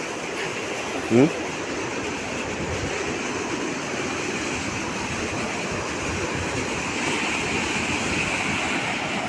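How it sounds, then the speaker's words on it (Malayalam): Rushing water roars steadily and loudly, like a waterfall nearby, with one brief higher tone rising early on. "എന്ത് മനോഹരമായിട്ടുള്ള വെള്ളച്ചാട്ടം നോക്കിയേ"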